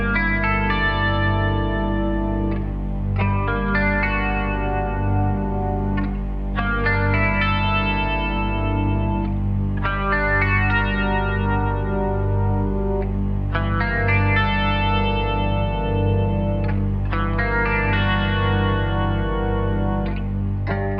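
Minor chord shapes from G melodic minor are strummed on an effects-laden guitar with distortion and chorus, the chords ringing in a repeating rhythmic pattern over a sustained low drone, alone and without voices.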